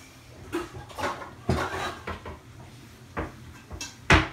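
A metal cooking pot is picked up and set down in a home kitchen, giving a series of separate clanks and knocks, some light and some sharper, with a clear metallic ring on the last one.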